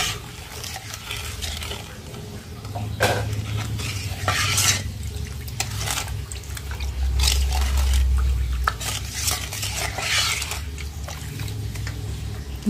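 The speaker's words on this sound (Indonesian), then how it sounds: "Kemudian tambahkan dengan 800 ml air. Oke, ini kita aduk." Pudding mixture and 800 ml of water for a strawberry pudding are stirred steadily in a pot, with a continuous scraping swish and occasional utensil knocks against the side, close and fairly loud with no talking.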